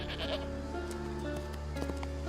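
Goats in the fantasy game New World bleat in a few short, wavering calls over a steady droning game ambience.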